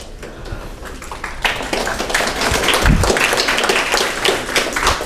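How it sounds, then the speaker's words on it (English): An audience at a Massachusetts community gathering between law enforcement and Somali Americans claps, a fairly loud burst of many hands with sharp individual claps standing out, swelling slightly and continuing throughout. "Thank you for the clap."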